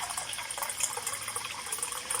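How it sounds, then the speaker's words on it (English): Water pours from a pitcher in a steady splashing, gurgling stream, close and continuous with no talk over it. "Lift that pitcher of that water. Simply pour some water."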